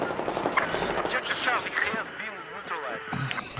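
Gunfire in the Battlefield 4 video game on the Golmud Railway map during a Domination match, dense rapid shots running throughout under steady talk from players.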